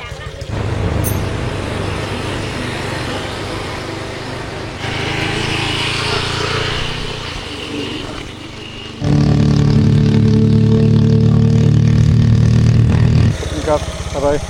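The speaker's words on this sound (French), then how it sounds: "Le scooter est monté sur une route au milieu de la forêt." Scooter engine droning while riding up a forest road, changing in pitch and loudness as it climbs, with a stronger, louder stretch of revving partway through and a busy, wind-roughened background.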